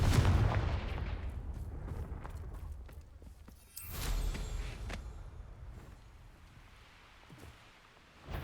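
Confringo fire spell blasting in the video game Hogwarts Legacy, a deep booming burst followed by crackling rumble and a second explosive swell, loud and then fading.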